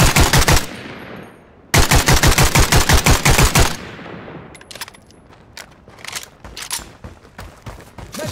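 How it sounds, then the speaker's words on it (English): Loud bursts of automatic gunfire in the shooter game Caliber, two long rapid volleys separated by a short gap, then scattered fainter shots and clatter trailing off. "Gotta shoot!"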